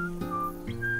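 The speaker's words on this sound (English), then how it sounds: "He decided to whistle a little tune to cheer himself up." A man whistles a short, cheerful little tune in a cartoon bedtime story, the clear tones rising and falling over a soft musical backing.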